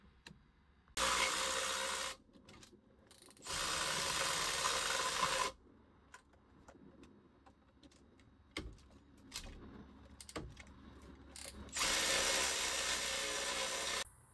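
Bursts of a power tool, likely an impact driver, loosen the 12 millimeter manifold bolts on a 2018+ Yamaha SVHO WaveRunner engine, with three loud runs of a few seconds separated by quiet handling clicks.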